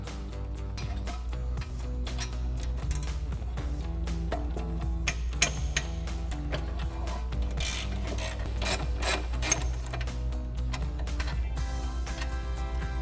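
A ratchet works on the rear brake caliper bolts of a 1994-2004 Mustang GT, giving a steady run of close, rapid clicks and mechanical rubbing over a low constant hum, with no talking.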